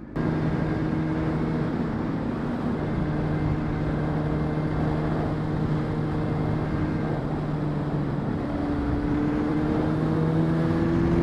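A car engine holds a steady, loud droning hum that rises slightly in pitch near the end as it revs, continuous and close with no voices.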